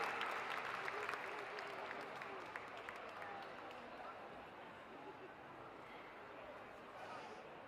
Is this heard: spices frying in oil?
no